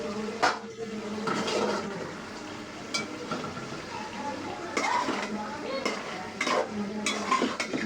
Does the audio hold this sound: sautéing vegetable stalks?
yes